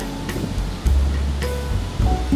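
Ocean surf beyond the trees behind a hotel pool washes in as a soft, distant roar, broken by a few nearby thumps and clicks, with no voices.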